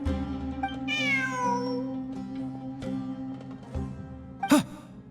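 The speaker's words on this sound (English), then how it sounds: "Look, a cat." A cat meows in the game Genshin Impact, a rising and falling mew that stands out over a steady ambient music bed, followed near the end by a sharp sliding chirp.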